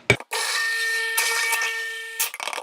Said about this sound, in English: I will add my lye water to the oils, and we'll give it a stick blend